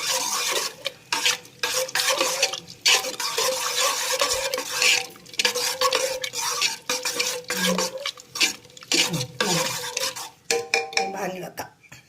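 A spoon stirs and lightly mashes green pea curry with potato in a pot, giving repeated close scraping and clinking against the metal in an uneven rhythm that runs the whole time with no one talking.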